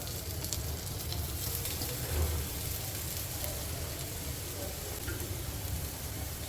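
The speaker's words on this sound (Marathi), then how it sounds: "आता बटाटे फ्राय होतात" Soft, even sizzling of potato slices frying on a hot griddle, a steady low hiss with faint crackles and some background hum, no clear speech.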